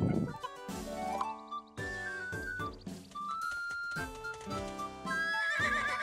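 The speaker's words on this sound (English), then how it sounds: "It's the horse." A horse in the video game Miitopia neighs and whinnies in a series of bright, tonal calls mixed with game music and clip-clop sounds, moderately loud and uninterrupted by talk.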